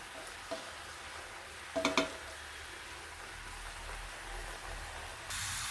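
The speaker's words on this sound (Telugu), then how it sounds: "ఈ విధంగా అన్నీ వేసి మనం ఫ్రై చేసుకోవటం వీటిని ఆయిల్లో" A corn flakes mixture fries in oil with a soft, continuous bubbling sizzle, joined by a short burst of clinking stirring near the middle; fairly quiet overall.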